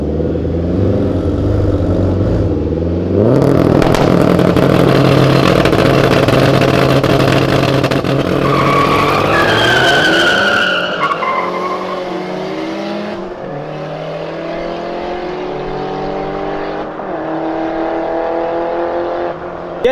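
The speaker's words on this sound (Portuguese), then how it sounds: "Jetta 230 cavalos contra o Palio." Two turbocharged street cars, a 230 hp Volkswagen Jetta and a Fiat Palio, race with loud engines revving and roaring up through the gears, then ease off to a lower steady drone.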